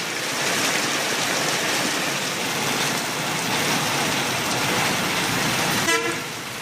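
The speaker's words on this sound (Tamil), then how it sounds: "சென்னை மற்றும் புறநகர் பகுதிகளில் விட்டுவிட்டு மழை பெய்தது" Steady broadband hiss of rain falling intermittently over Chennai and its suburbs, continuous and fairly loud throughout, with traffic and a brief car horn toot near the end.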